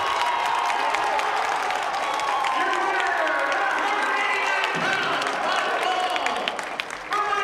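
A crowd at a boys high school wrestling dual between St. Mary's and Minot cheers and claps in a sustained, lively roar, with an announcer talking over the noise.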